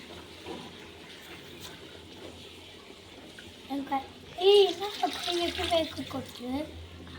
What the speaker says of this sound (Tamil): இப்போ தண்ணி 3 டம்ளர் ஆட் பண்ணுவோம்